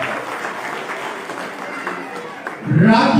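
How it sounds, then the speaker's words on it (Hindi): Parents applauding at a Kendriya Vidyalaya school annual function in Reckong Peo, Kinnaur, steady crowd clapping throughout, swelling louder near the end, with a voice speaking over it. "तालियां बजाते रहे सभी अभिभावक।"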